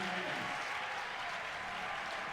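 A crowd applauding at a men's and women's IFSC Climbing World Cup bouldering final in Meiringen, a steady, dense wash of clapping held at an even level, with faint voices underneath.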